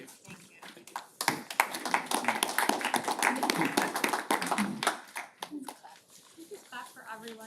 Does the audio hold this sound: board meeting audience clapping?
yes